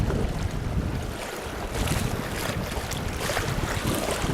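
A boat engine runs at full power in fifth gear, a loud steady roar mixed with heavy wind buffeting and rushing water from the spray.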